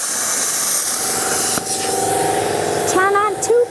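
A plasma cutter slices through a steel wheelbarrow with a loud, continuous hiss that breaks off briefly midway, and a voice hums a melody near the end.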